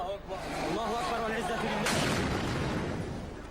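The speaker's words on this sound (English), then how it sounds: "Tearing itself apart, explosions, war cries and laments" Conflict footage from Syria with a sharp, loud burst of gunfire or explosion breaking through a tonal, chant-like voice, probably war cries, and the heavy rumble lingers beneath as the voice fades.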